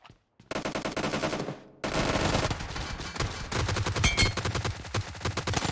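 Rapid automatic gunfire in a shooting video game, loud and close, a brief burst followed after a short gap by a long sustained stream of shots.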